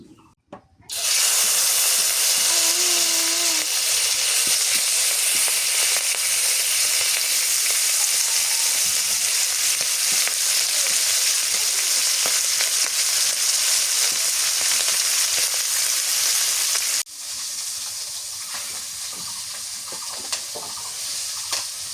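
A hilsa fish head and tail fry in hot oil with a loud, roaring, continuous sizzle that bursts in suddenly after a quiet start. Near the end it drops to a softer, steady hiss, close and unaccompanied by speech.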